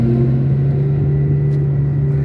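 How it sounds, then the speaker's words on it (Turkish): A construction machine approaches along a dangerous, congested road between Söke and Koçarlı, heard as a loud, steady low engine drone with a strong humming tone throughout. "bakın iş makinesi geliyormuş"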